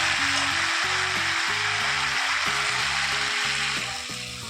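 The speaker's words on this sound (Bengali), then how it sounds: "একটু পরিমাণ মতো এবার জল দিয়ে দেবো।" Prawns and Malabar spinach greens fry in a pan after water is added, a loud continuous sizzle and hiss holding steady before easing slightly at the end, with background music underneath.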